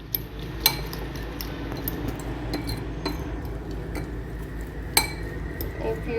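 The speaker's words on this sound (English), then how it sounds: "And add the egg. And mix it well." An egg stirred with a spoon in a bowl with pepper, green chili and onion, giving light clinks of metal on the bowl at intervals, a few sharper taps standing out over a steady low background hum.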